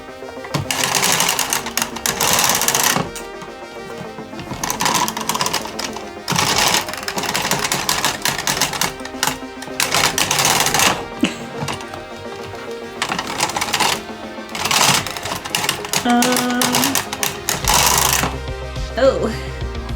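A 1990s knitting machine carriage is run back and forth, making loud mechanical clattering and rattling passes in repeated bursts with brief gaps between them.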